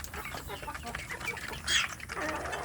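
Free-range village chickens cluck and chirp close by during feeding, with short bird calls scattered over a busy background and a louder squawk midway, while a person talks over them.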